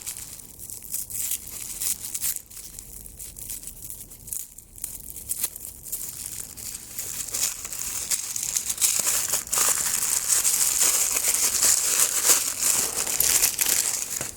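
Paper crinkles and rustles while a Transformers toy is unwrapped, with close, irregular crackles that start sparse and grow into a denser, steadier rustle toward the end.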